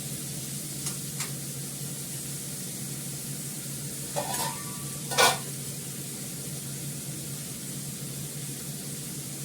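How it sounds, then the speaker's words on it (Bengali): Large prawns frying in plenty of oil, a steady soft hiss of sizzling throughout with a couple of brief louder clatters and spatters midway, close and without talk. "চিংড়ি মাছটা ভাজা হয়ে গেছে।"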